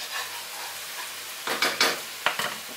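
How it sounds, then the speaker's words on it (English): A hot honey and balsamic vinegar mixture is stirred in a pan, giving a soft background sizzle broken by a few sharp scraping strokes toward the end. "Be careful as you're stirring it because the sugar in the honey and the balsamic vinegar gets very, very hot"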